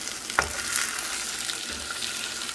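Three eggs scrambled in a hot pan with choriquiles, one clack of the spatula followed by a continuous close sizzle as they are stirred, no speech.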